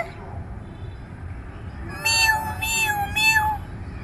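A child imitates a cat, making three drawn-out, wavering meows in quick succession after a quiet stretch of room noise.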